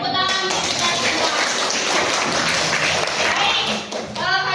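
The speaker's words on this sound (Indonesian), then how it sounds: "Tepuk tangan untuk kita semua." A group in a classroom breaks into applause after a micro-teaching lesson on biography texts, with dense, steady clapping that stays fairly loud from start to finish.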